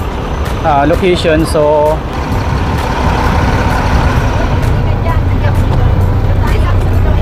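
A minibus shuttle rumbles at idle outdoors in Dubai, a short air-brake hiss and squeal near the start, while a person talks over the continuous engine noise.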